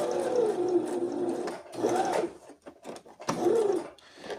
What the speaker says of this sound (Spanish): Aquí vamos a insertar nuevamente la aguja porque se salió el hilo. Y ahí cosemos.